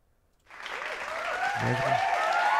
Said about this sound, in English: Golf clap, Sam.